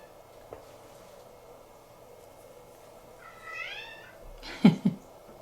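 A cat meows from nearby with a rising, wavering call, followed by two short loud bumps, over a quiet room hum.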